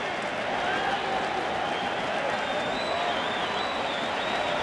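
A baseball crowd at a World Series game between the Giants and the Royals stirs and cheers at a 1-2 count, a dense, continuous roar of the stadium audience that holds at a constant level.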